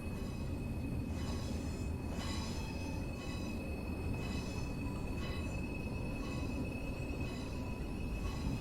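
A train in Train Sim World 2022, on the Portsmouth Direct Line into London Waterloo, rumbles steadily as it slows under braking, with a faint, continuous high wheel squeal and periodic clicking of wheels over rail joints.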